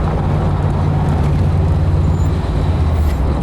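A 1979 VW Beetle Cabriolet on a road test drive, its air-cooled engine a steady low drone under constant wind and road rumble, loud and close throughout.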